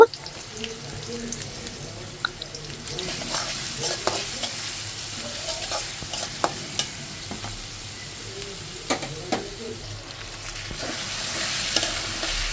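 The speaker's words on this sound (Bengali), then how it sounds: "প্রথমে তো আমি তেলের মধ্যে পেঁয়াজ দিলাম পেঁয়াজটা একটু ভালো করে ভাজা ভাজা করে নেব" Onions fry in hot oil in a home kitchen, a constant crackling sizzle with a spoon stirring and occasional sharp clicks against the pan, running water faintly in the background.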